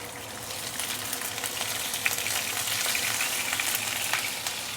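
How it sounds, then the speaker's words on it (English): Tofu and minced meat fry steadily in a non-stick pan on an electric stove, a close, even sizzle with scattered sharp pops and crackles of splattering oil throughout. "See, I told you it will splatter."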